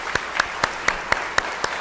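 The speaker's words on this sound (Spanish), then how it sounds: "Vamos a darle un aplauso para despedirlo de él." Sparse audience applause at a health law congress, a handful of distinct, evenly spaced claps in a steady rhythm, fairly faint and without talk.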